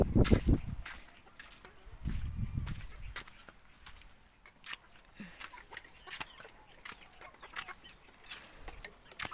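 Chickens cluck intermittently nearby at a coop, with scattered short calls and some faint rustling or footsteps in the background.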